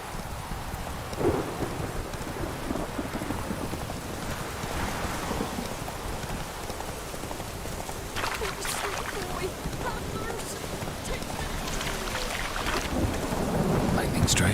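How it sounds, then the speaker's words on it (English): Thunder rolling through steady rain in The Witcher 3, a constant wash of rainfall with low rumbles and a sharper crack partway through, building louder toward the end, no talk. "Lightning strike."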